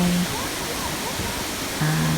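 The Samrong Kiat waterfall in Khun Han, Sisaket, Thailand, sends out a continuous, even roar of falling water, heard close and filling the whole moment, with faint tonal sounds riding on top.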